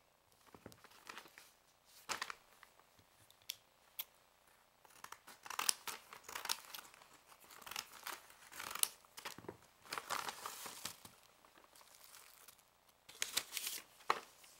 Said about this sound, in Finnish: mulle tuli tänään paketti ja se on Maija LPS vaihtopetsit. Niin joo, mä avaan tämän nyt tässä